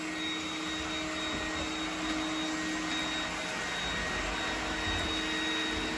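An iRobot Roomba 980 robot vacuum runs on the floor with a constant loud, close motor drone and suction whine that holds steady throughout.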